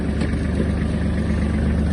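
A Kubota GL-320 Japanese mini tractor engine runs at its lowest travel speed, a close, steady low chugging hum with no change in pace over a brief stretch.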